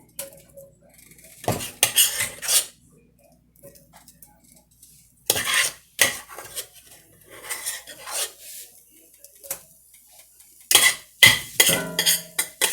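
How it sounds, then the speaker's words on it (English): Leftover mashed potatoes spooned into a heated pan at home, heard as bursts of metal utensil scraping and clanking against the pan separated by quiet gaps, close up with no talk. "I'm going to put them right in that pan and warm them up in there"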